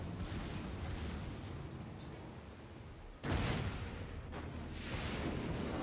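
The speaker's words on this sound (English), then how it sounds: "You can see the power of my secondaries who are all opening up on the combo" Secondary guns of a New Mexico battleship firing in World of Warships over a continuous low rumble, with one sudden sharp blast midway and further booms rolling after it.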